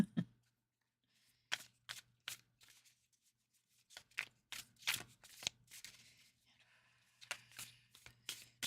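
Tarot cards are shuffled and handled in a quiet room, with a series of short, crisp riffling bursts and flicks coming in irregular clusters, close and soft, separated by near silence over a faint steady hum.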